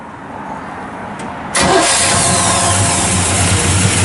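A 1956 Chevrolet 210 Bel Air with a mild 350 V8, headers and dual exhaust cranks and fires right up about halfway through. It settles into a loud, close, steady idle with a deep exhaust burble and no one talking.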